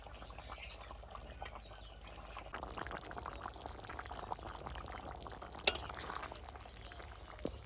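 Water is poured into a simmering fish curry in a village kitchen, giving a faint, steady pour and bubbling, with occasional soft clinks of a utensil and one sharper metallic tap.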